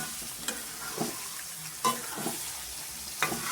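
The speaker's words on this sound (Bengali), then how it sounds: "এবার আমি খুব ভালো করে কষিয়ে নেব কিছুক্ষণ জল দিয়ে দিয়ে 10 মিনিট মতো" Chicken curry with potatoes sautéed and stirred in a pan, giving a steady low sizzle broken by several scraping stirs of a spatula, close up with no talking.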